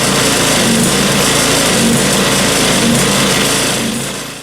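Small lawn mower or generator engine with a clogged carburetor, idling roughly and surging: a loud, close, continuous buzzing drone that wavers in pitch, then fades slightly at the end.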